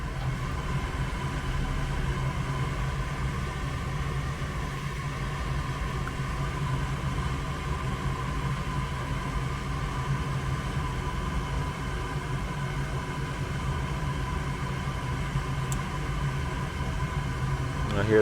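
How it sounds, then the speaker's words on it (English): A Goodman gas furnace inducer motor spins up and settles into a steady, even hum with a faint tonal whine, running continuously; a voice is faintly present underneath. "Inducer spinning up."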